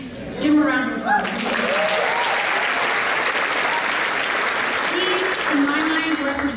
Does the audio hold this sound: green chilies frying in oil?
no